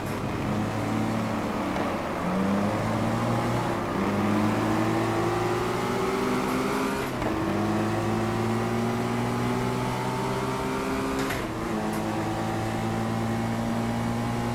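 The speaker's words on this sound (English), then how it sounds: "So I'm doing a gear skip here from 4th to 2nd down here." A racing-sim car engine drones steadily and climbs in pitch, broken by abrupt gear changes, including a skip downshift from fourth to second. It stays loud and close, with no voices.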